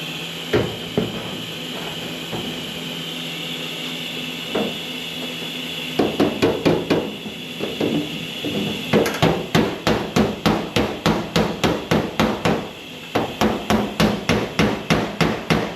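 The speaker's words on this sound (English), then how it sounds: "I'm going to whack on each of those spot welds." Hammer blows against a dolly on the spot welds of a 1974 Chevy square body passenger door skin, close and loud metallic strikes, a few scattered at first, then rapid rhythmic runs of repeated whacks with brief pauses between bursts.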